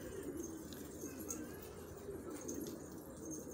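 Pigeons coo softly and repeatedly, faint and somewhat distant over a low outdoor background hum.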